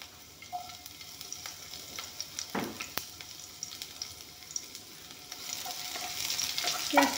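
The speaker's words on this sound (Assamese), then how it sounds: "এয়া পিঁয়াজখিনি দি দিছোঁ।" Onions fry in a little refined oil in a hot wok, a soft steady sizzle broken by a few sharp stirring scrapes and clatters, with no talking.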